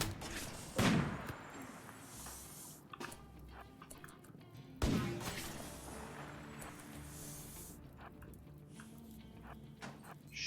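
Two sharp gunshot bursts from raiders in RimWorld ring out several seconds apart, each followed by a decaying crackle, amid quieter game clicks and ambient sound.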